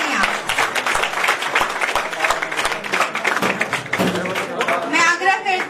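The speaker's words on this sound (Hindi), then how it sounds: "जोरदार तालियां।" Loud, dense applause from a crowd at a Karni Sena workers' convention in Jharkhand, steady clapping filling the whole stretch with a few sharper claps and brief voices cutting through.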